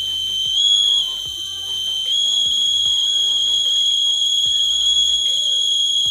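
Continuous shrill buzzer from a water level indicator on a filling tank, loud and steady with a slight shift in pitch partway through, over faint background noise.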